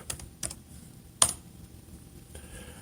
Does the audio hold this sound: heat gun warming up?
no